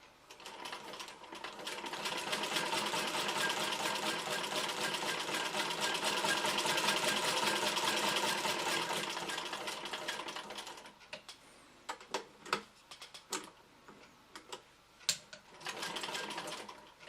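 A Singer 15K80 sewing machine stitches a quilt sandwich with cotton wadding: a steady, close, loud mechanical whirring run for about ten seconds, then a few short clicking bursts and a brief final spurt of stitching.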